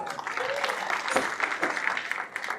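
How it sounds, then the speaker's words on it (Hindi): Audience applause at the Bind Samaj Vikas Sangh's 7th annual conference in 2024, welcoming a guest on stage with a trophy; dense, steady clapping from a crowd with faint voices mixed in, moderately quiet throughout. "जोरदार तालियों से स्वागत किया।"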